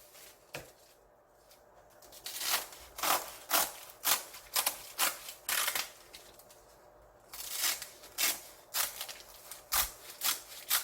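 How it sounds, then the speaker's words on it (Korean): Kitchen scissors snipping food, such as seasoned laver or fillings, while making tail-end kimbap at home, with a steady series of sharp, close cuts in an irregular rhythm and no talking. "가위로 적당하게"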